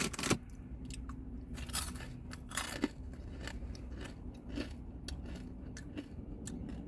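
Crunchy, sugary Buc-ee's snack pieces being chewed close to the mic, a steady run of sharp crunches and bites repeating through the whole stretch with no talking.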